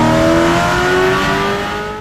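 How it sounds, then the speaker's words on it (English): A 2024 Ford Mustang GT S650 V8 exhaust screams at high revs, a loud, close, sustained engine wail with sweeping harmonic tones that slowly fade as it pulls away. "if this is the S650 going through the high revs, boys, this is heavenly"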